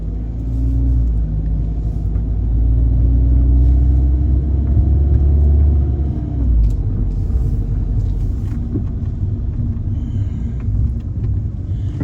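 A car drives through a residential neighborhood in Richfield, Minnesota, its low engine and road rumble steady and close throughout, with a slight swell in the middle.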